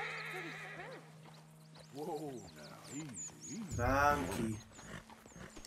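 A horse in Red Dead Redemption 2 whinnies and snorts several times, rising to a loud, drawn-out neigh near the end, while someone talks over it.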